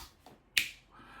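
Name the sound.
finger snap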